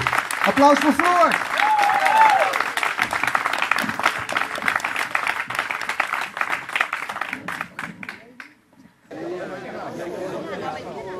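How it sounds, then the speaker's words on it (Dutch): Concert audience applause after an acoustic song, a dense spread of clapping mixed with chatter and a few voices, fading briefly before talk resumes near the end. "Applaus voor Floor!"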